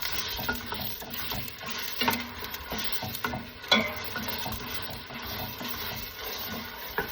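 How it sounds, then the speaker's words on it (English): Onion and garlic sautéing in olive oil for a Portuguese fava bean and chouriço stew, a low steady sizzle with repeated scraping stirs and clacks of a utensil against the pan. "just mix in the flavor with the onion, garlic, and olive oil"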